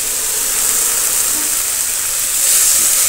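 Spice paste of onion and garlic with a splash of water sizzling in a frying pan, a loud, steady, close hiss that swells slightly near the end.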